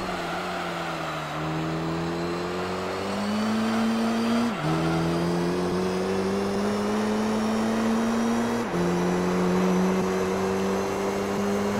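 Gran Turismo 3 race car on racing slick tyres, its engine droning steadily and loud as it climbs through the gears, pitch rising within each gear and dropping at two quick upshifts, with no talk over it.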